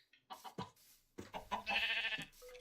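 Sheep bleats from Minecraft, several short nasal calls in quick succession, with a longer, louder bleat near the end; fairly close and clear, no talking.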